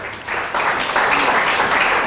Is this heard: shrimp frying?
no